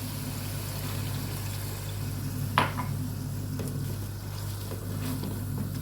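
Kerala-style more curry simmering in a pot after water is added: a steady, close bubbling hiss runs throughout, broken once near the middle by a brief utensil clink.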